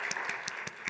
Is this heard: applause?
yes